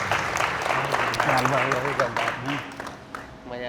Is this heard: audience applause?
yes